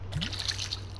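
Water running into a container, a brief steady trickling rush with a faint rising tone as it fills, close by and alone.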